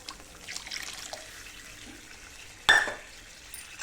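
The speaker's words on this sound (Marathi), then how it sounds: "थोडंसं पाणी टाकू" Water poured into a pan of simmering vegetables for sour chuka leaf bhaji: a soft sizzle and faint stirring, then a short, louder splash and hiss as the water hits the hot pan.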